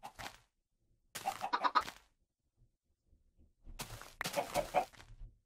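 Two bursts of chicken clucking from a Minecraft chicken, a short one at the start and longer runs of clucks later, with a silent gap in between and no voices.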